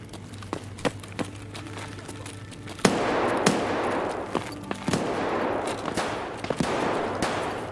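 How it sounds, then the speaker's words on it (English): Gunfire in Escape from Tarkov during a Factory PvP raid: scattered sharp single shots early, then sustained bursts of automatic fire with more cracks scattered on top, moderately loud and fairly close. "He's shooting you through the wall!"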